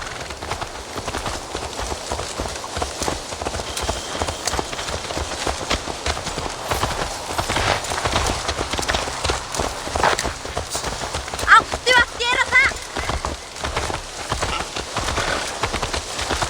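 Horse hooves clip-clop at a steady walking rhythm in Assassin's Creed Valhalla, mixed with a rain-like hiss and game ambience, while voices talk over the scene.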